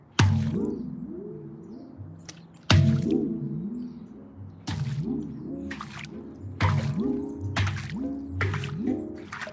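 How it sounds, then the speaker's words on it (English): A steel handpan is dropped into water and rocks in it, giving repeated watery, warbling metallic tones with bursts of splashing and dripping, about five swells close up with no talking. "Before I put any water in or play it, I'm gonna drop it in the water."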